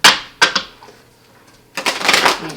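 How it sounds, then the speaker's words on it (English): Tarot cards are shuffled close up in quick riffling bursts, a couple of sharp flurries at the start and a longer, denser shuffle near the end with quiet gaps between. "as I shuffle the clarifying row"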